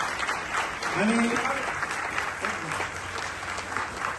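Audience applause at a children's performance felicitation event, steady clapping filling the space while a voice speaks over it briefly.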